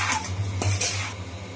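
Mango pickle with vinegar is stirred in a bowl with a spoon, making a short series of wet scraping and clinking sounds, close and fairly loud.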